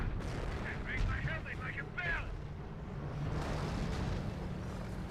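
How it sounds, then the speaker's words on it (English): Howitzer barrage booms and rumbling artillery fire in the Company of Heroes strategy game, continuous low thunder lasting throughout, with a voice talking over it. "Black 8 taking some howitzer barrages"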